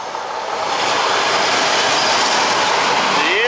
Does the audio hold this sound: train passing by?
yes